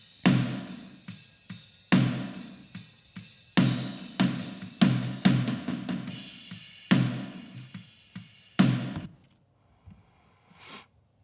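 Snare drum with top and bottom microphones blended in a worship-style drum mix, struck in a steady pattern of sharp, loud hits with bright rattly tails, a few softer ghost strokes in between, ending in quieter taps.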